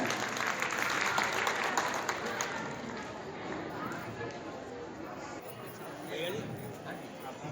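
A crowd at a Children's Day school celebration claps for an announcer, a broad, continuous patter of applause heard through a busy, somewhat muffled room with voices mixed in.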